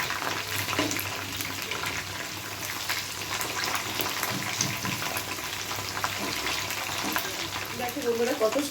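Spicy chicken wings frying in hot oil crackle and sizzle in a dense, continuous hiss close by, steady throughout with a few brighter pops near the end and no voices.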